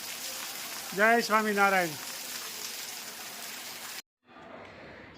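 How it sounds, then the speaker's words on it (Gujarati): Heavy monsoon rain pours down as a dense, steady hiss, while someone briefly speaks a greeting over it; the sound cuts out abruptly near the end. "જોરદાર વરસાદ પડી રહ્યો છે"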